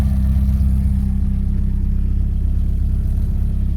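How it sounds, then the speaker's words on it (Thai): A 1996 Mitsubishi Lancer E-car with a fuel-injected engine runs steadily throughout, a close, loud low engine drone with no pause, no voices and no distinct cranking at the start. "เดี๋ยวติดเครื่องให้ดูนะครับ เครื่องติดง่ายนะครับ"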